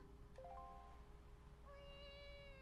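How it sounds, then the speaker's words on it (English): A cat in the video game The Legend of Zelda: The Wind Waker gives two short, clear meows in quick succession, quiet and tonal against a low steady game background hum. "Mildly making cat noises."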